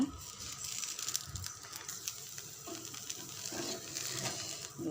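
Ragi rava dosa frying in oil on a pan, a soft, steady sizzle and faint crackle that stays quiet throughout.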